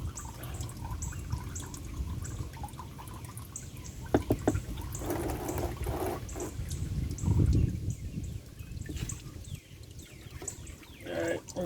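Engine oil from a 2000 Porsche Boxster drains into a drip pan, a continuous trickling and splattering of liquid with occasional drips and clanks nearby, no talk.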